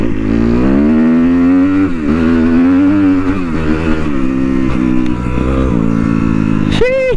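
A sportbike revs and accelerates, its engine note rising and falling through several loud pulls with clear harmonic tones, ending in a sharp high-pitched rise.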